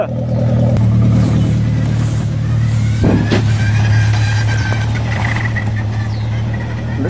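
A worn 1994 Volkswagen Jetta revs hard at close range, its engine roar carrying a steady high-pitched transmission whine, loud and continuous throughout.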